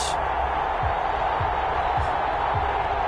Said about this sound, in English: This crowd is ready as their guys get set to match up between the New England Patriots and the Detroit Lions.